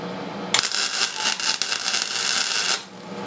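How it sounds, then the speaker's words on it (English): Engine mounting clip being tack welded onto a 15 HP five-speed go kart frame, a loud crackling, hissing burst of about two seconds that starts abruptly and cuts off. "just gonna weld this little mounting clip on here"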